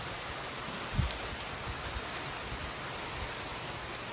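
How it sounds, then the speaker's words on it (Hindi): Heavy rain falling outdoors during a sudden downpour in India, a steady moderate hiss of drops with a soft thump near the start and no speech. "बहुत ही ज़बरदस्त बारिश शुरू हो चुकी है ये देखिए कितने तेज़ बारिश हो रही है"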